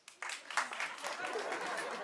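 Scattered applause and light laughter from a small comedy club crowd after a stand-up comedian's question, faint and brief, with a brief moment of chatter.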